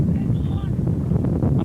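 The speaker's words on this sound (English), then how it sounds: "On a very windy October day." Strong October wind gusting across St Patrick's Park football ground in Newcastle, a steady low rumble buffeting the microphone throughout, with faint voices underneath.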